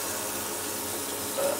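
A bidet sprays warm water in a UK bathroom, a steady close hiss of running water that holds evenly the whole time with a slight swell at the end.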